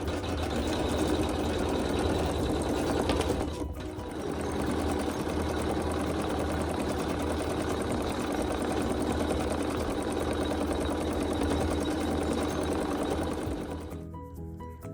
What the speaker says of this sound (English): go ahead and hit start to sew some more quilting